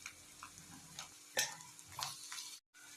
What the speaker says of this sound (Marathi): आता यामध्ये या तेलामध्ये छानपैकी फ्राय होऊ द्यायची ही सिमला मिरची